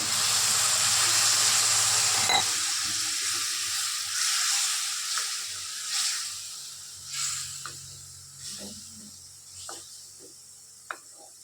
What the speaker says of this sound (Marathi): मस्त भाजायला लागलाय